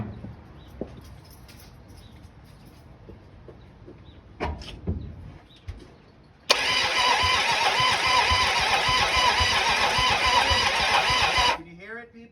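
A 1974 Dodge Challenger engine cranks on its starter with a steady, loud, whirring grind that lasts about five seconds. Scattered clicks and handling noises come before it, and it cuts off abruptly.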